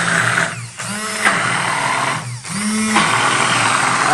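A stick blender whirring through spinach bean dip, loud and close, with two short dips where the motor pitch drops and recovers before the steady whine resumes.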